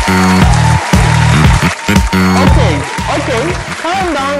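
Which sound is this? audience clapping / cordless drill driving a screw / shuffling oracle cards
audience clapping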